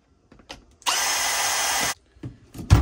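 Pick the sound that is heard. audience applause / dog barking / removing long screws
removing long screws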